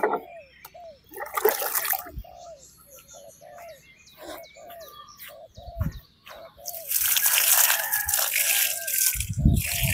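Water trickles and splashes in a small home garden beside a hut, the flow coming in bursts at the start and swelling loudly near the end, while chirping birds call repeatedly in the quieter middle stretch.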